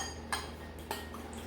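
A utensil mixes egg yolk in a bowl while making bibingka, giving two faint, brief clinks against the dish and quiet handling in between.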